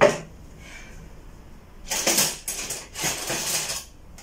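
A spoon works through mango salsa in a bowl, with short bursts of wet scraping and clinking in quick strokes after a quiet start.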